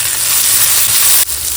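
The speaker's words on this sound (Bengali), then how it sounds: "পেঁয়াজটা এখানে ভাজা ভাজা হয়ে যাওয়ার পর টমেটো দিয়ে দিয়েছিলাম, তারপরে একটুখানি দিয়ে দিচ্ছি নুন" Tomatoes frying with browned onions and salt in a hot pan, a loud, dense, continuous sizzle close by that drops off abruptly just before the end.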